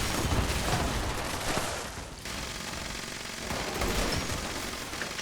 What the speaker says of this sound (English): Bit difficult to tell with all the explosions going on around us.